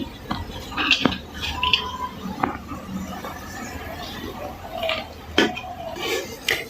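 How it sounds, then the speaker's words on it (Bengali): Parboiled, partly cooked rice and its water are poured from a pot into a strainer. Metal clanks and a brief squeal of the pot sound against soft wet splashing and dripping, close by and fairly quiet, with no speech. "আমরা এখানে ছাঁকনির উপরে এইভাবে ভাতটি ঢেলে নিচ্ছি।"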